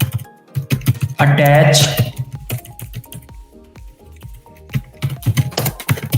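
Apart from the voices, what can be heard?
typing on a computer keyboard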